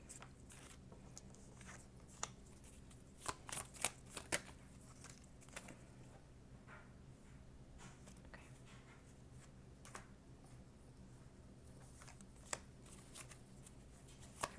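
Soft, papery riffling of tarot cards being shuffled close by, with scattered sharper snaps and flicks over a faint low hum.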